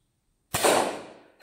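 A soft foam dart toy gun fires once at a paper cup, a single sharp close pop after a moment of silence, with a short trailing rattle fading out.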